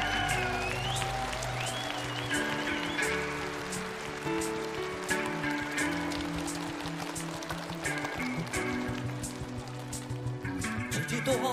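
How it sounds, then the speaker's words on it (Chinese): Studio audience applause on a televised singing competition, a dense crackle of clapping rising over a musical backing as the next performer is welcomed to the stage. "感谢龙哥，掌声有请"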